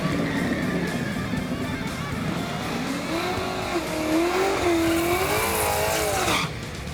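Extreme-class drag cars, including one running nitrous, roar down the strip at Orlando Speed World in a loud, sustained engine blare with rising and wavering engine pitch, heard fairly close and unbroken until a sudden drop near the end.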